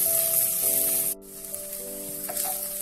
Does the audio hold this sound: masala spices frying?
yes